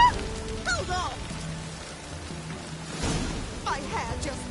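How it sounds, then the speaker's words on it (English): Steady rain hisses across the scene in The Witcher 3: Wild Hunt, a continuous wash of falling water under game sounds, with honking goose-like calls and bird cries breaking through at the start and end. "The rain will ruin it!"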